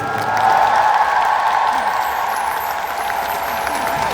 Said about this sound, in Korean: 우리 연출진 여러분들에게 큰 박수를 보내주세요